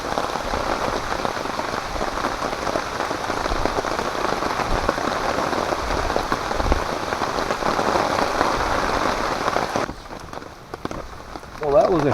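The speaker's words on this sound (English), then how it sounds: "Well, that was a short burst of rain." Steady rain drums on a camping tent during a solo camp by a fire in a rainstorm, a dense, even patter that runs for about ten seconds before stopping abruptly, leaving a few faint scattered drops.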